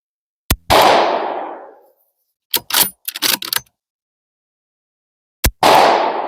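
Three sharp rifle shots from a Romanian PSL ring out, each a loud crack with a trailing roar; a quick cluster of clatters and metallic clinks falls between the first two and the last.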